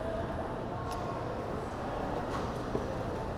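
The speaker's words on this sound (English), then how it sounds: "we've reached another set of trains that travel from outside of the city of Toronto into Toronto and vice versa." Commuter rail trains at Union Station in Toronto rumble as a steady, continuous roar with a faint metallic click near the end, no voices.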